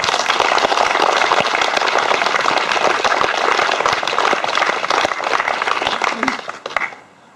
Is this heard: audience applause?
yes